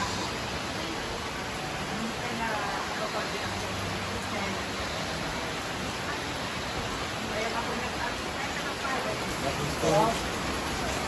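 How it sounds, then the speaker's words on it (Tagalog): Dense, steady rush of heavy rain pouring down throughout, with faint voices now and then beneath it. "Ayan no, lakas ng ulan."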